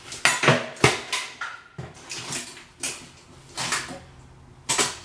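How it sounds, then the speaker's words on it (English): Metal ratcheting wrenches being handled while sorting tools in a storage unit, sounding as a series of separate sharp metallic clinks and clanks, close by with short pauses between them. "more ratcheting wrenches."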